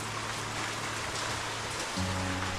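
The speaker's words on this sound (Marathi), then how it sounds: "आता काय पाऊस काय थांबतच नाही" Steady rain falls in a Ratnagiri village, an even, soft patter over a faint low hum with no voices.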